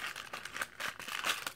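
Crinkling of a small plastic bag being torn open to unpack a Minecraft minifigure, close and fairly loud, with bursts of rustling and no talk.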